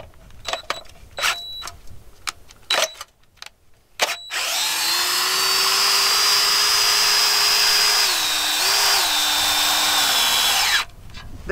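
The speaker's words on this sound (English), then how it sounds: "You can just hook it to a drill." A power drill cranks a trailer leveling scissor jack on a bus, starting after a few clicks and handling noises and then whirring loudly and steadily for several seconds with a brief dip in pitch before stopping.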